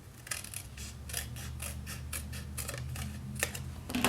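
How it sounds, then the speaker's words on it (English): Scissors snip through paper again and again in a quick, fairly steady rhythm, crisp and close, with no voices. "I'm trimming it with my hand scissors, my paper snips"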